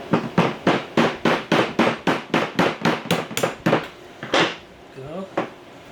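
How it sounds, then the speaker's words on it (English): Rapid, close plastic-mallet taps on a Deckel SO single-lip grinder axle assembly, a dozen or more sharp blows in a steady run, then a few scattered knocks alongside brief talk. "I'm using plastic mallet here"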